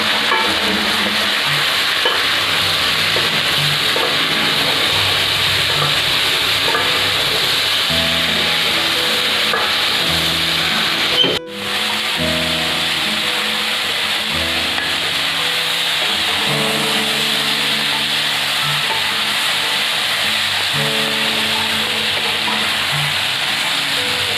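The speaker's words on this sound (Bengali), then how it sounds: "এবার এটা ভাজা ভাজা হোক" Food frying with turmeric in a pan for a spinach dish, a continuous loud sizzle with rhythmic stirring and scraping throughout and one abrupt knock midway, no talking.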